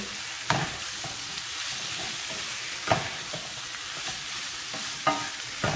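Steady bubbling and sizzling of a pot boiling on the stove while making lasagne, with a few soft clinks of a utensil against the pot.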